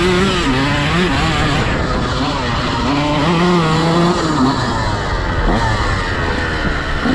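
A Honda CR125 two-stroke dirt bike ridden through the woods, its loud engine climbing and dropping in repeated throttle surges as it moves along the trail, with no talking.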